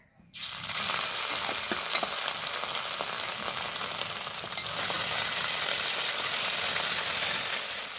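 Ginger paste and green chilli paste hit hot oil in a pan and burst into a sudden, loud, steady frying sizzle that carries on evenly, with no talking.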